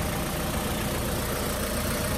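A Nissan QD32 diesel engine idles after a general overhaul, a loud, close, steady rumble with a continuous even clatter and no voices.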